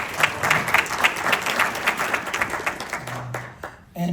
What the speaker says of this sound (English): So, please, round of applause for Marva.